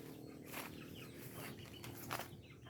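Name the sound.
chickens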